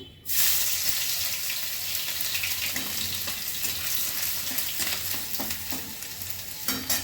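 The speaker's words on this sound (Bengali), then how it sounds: "তাহলে আমি রসুনটা ফোড়ন করছি।" Garlic drops into hot oil for tempering palak paneer and bursts into a loud, sudden sizzle. The crackling hiss holds steady throughout, broken by a few sharp stirring clicks.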